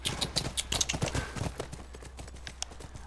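Horse hooves clip-clop in a series of quick, fairly close strikes in The Last of Us game, with the rhythm easing toward the end and no talk over it.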